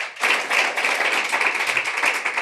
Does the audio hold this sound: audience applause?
yes